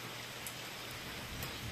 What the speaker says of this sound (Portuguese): abrir o zoom aqui, que tá chovendo